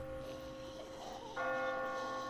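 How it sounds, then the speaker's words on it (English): Clock tower bells ring in The Walking Dead game, a sustained metallic tone that swells louder partway through over a low ambient hum, with no voices. "I just got spooked by those bells"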